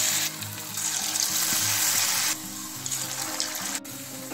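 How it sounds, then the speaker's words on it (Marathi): Small raw potato snack balls sizzle and crackle steadily in hot oil, a close, continuous frying hiss with brief bursts of bubbling and a faint clink near the end. "आता हे जे छोटे छोटे गोळे आपण असे तयार करणार आहोत ते आपल्याला एक एक करून तेलामध्ये सोडायचे आहे।"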